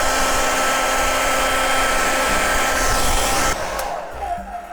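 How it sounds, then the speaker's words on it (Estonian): An ordinary hair dryer blows a loud steady roar while heating a sticker on toy bricks, then is switched off and winds down at the end. "Selleks sobib kõige tavalisem föön, lihtsalt kuumutada teda."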